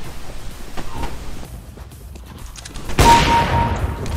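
Gunfire bursts out in a Counter-Strike: Global Offensive match, with scattered background shots followed by a louder, closer volley near the end.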